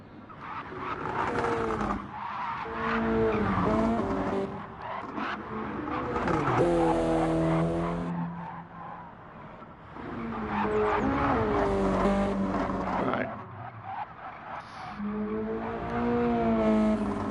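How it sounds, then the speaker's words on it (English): Race car engines and squealing tires in a racing video game at Deep Forest Raceway: a continuous loud engine drone with wavering, sweeping pitches and screeching tire sounds, no talking. "Just go tires squealing like that."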